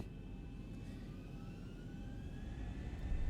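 Boeing 737-800 jet engines spooling up as thrust is added in the X-Plane 11 flight simulator, a faint low rumble with a thin rising whine that swells slightly toward the end, no voices.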